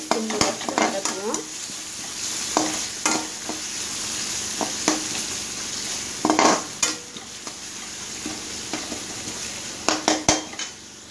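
Vegetables sauté in oil for lemon rice, a steady sizzle broken by repeated scraping and clanking of a spoon against the pan at close range.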